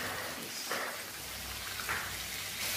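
Pieces of hake fish fry in a pan over medium heat, giving a steady, soft broadband sizzle with a few brief louder crackles and no voices.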